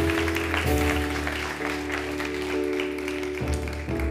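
Church congregation applauding, steady clapping from a crowd layered over sustained organ or keyboard chords, continuing at an even level throughout.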